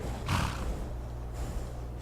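A horse in the video game Skyrim gives a short, breathy snort-like burst, followed by a low steady rumble and a fainter second huff, with no speech.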